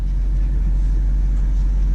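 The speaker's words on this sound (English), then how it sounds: "I'm actually gonna move the BMW right now" A BMW car engine idles steadily while the car is being moved, a continuous low rumble that stays loud and even throughout with no talking.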